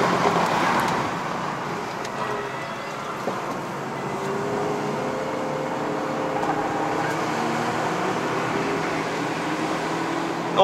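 A 2022 Honda Civic RS accelerating on a mountain climb in Malaysia: steady, fairly loud cabin drone of engine and road roar that holds through the whole stretch, with no talking.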